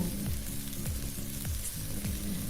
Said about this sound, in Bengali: কাজু বাটার সঙ্গে সব মশলা কষাবো